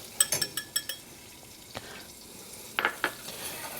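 A utensil stirs equal parts flour into melted butter in a pan for a roux, giving a series of scraping taps against the pan over a faint sizzle, close and intermittent, with no talking.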